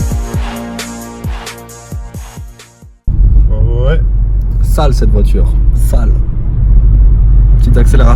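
A Renault Megane 4 GT with a 205-horsepower engine revs in a few short bursts, then settles into a loud, steady rumble of hard acceleration while someone talks over it.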